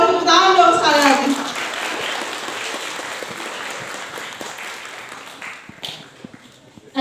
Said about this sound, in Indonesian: boleh tepuk tangan dong sekali lagi.